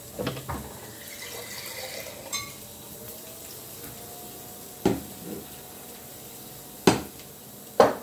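Water poured into a cooking pot for tripe, a brief splashing pour at the start followed by sharp clanks and knocks of the pot and lid, with no one speaking.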